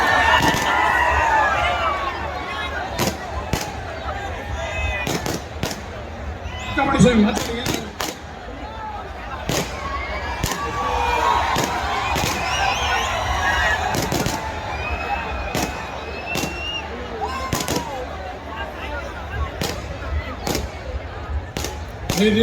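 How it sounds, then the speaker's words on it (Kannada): Firecrackers burst again and again amid a crowd at the Karaga festival, sharp cracks in a steady irregular rhythm over continuous crowd chatter and nearby talking voices. "ಪಟಾಕಿ ಹೊಡೆದು ಯಾಕೆ ಹಾಳು ಮಾಡ್ತಾ ಇದ್ದಾರೆ?"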